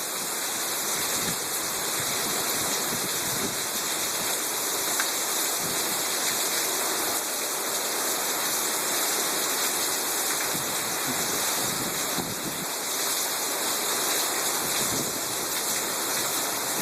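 Heavy rain pours during a thunderstorm over a pond, a dense continuous hiss and roar of water that stays loud and steady throughout.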